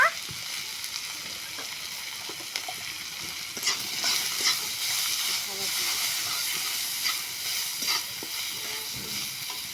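Cinnamon and chopped onion fry in a pan with a continuous hissing sizzle and occasional stirring clicks, loud and close throughout.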